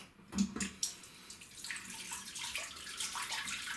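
Water runs from a tap in a steady, close stream, with a few small knocks and splashes at the start, rather quiet overall.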